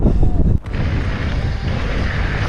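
Strong wind roars and buffets the microphone on a mountain bike trail in Ecuador, a loud continuous rumbling gust with a brief dip partway through, no speech.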